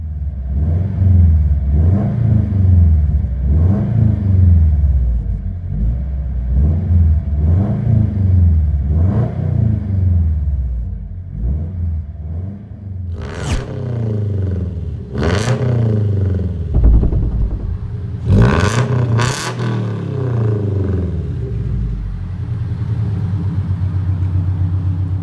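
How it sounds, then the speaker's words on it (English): A 2012 Scion FR-S with a Street Demon cat-back split dual exhaust, heard up close idling with a deep burbling rhythm, then several sharp revs that rise and fall before settling back to idle. "Interior tone level is moderate to heavy with this Street Demon split dual exhaust."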